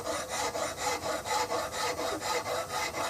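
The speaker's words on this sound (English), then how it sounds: "This file doesn't dig unless I'm pushing it." A hand file rasps over a wooden gun stock for a Remington 788 in rhythmic back-and-forth strokes, about a dozen even, close scraping passes.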